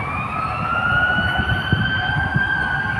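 A fire truck siren at a fire in Manila wails in a long, steady, slowly shifting tone over rumbling traffic and street noise, loud and close, with a few soft thumps beneath.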